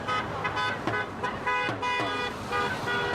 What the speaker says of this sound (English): Those passing by giving a honk in support